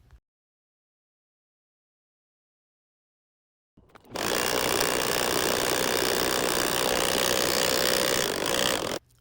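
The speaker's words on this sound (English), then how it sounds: "we're just going to sew one straight line down both sides" A sewing machine runs a straight side seam on a tote bag, starting after a few seconds of silence, then a steady, loud, continuous mechanical whir that stops abruptly near the end.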